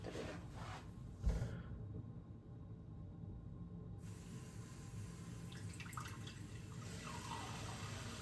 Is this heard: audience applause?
no